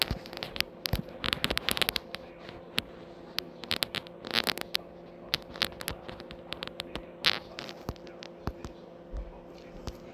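Fireworks rockets going off on New Year's Day: scattered sharp cracks and pops, some clustered in quick bursts, over a steady low hum, moderately distant.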